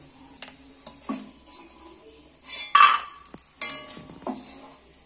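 Fried peanuts stirred and lifted from a pan while making a Kolkata vegetable chop: scattered metallic scrapes, taps and clinks of a spoon against the pan, some sharp and loud, with a faint sizzle between them and no talk.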